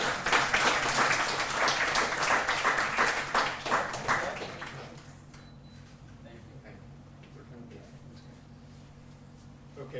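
Audience clapping for a speaker at a live event, brisk and fairly close for about four seconds before fading out, leaving a quiet room with faint talk.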